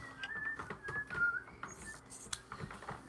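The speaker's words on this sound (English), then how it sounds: "That's what I was trying to whistle" Human whistling with a wavering tune, close and fairly quiet, broken by short knocks and clatter from handling nearby.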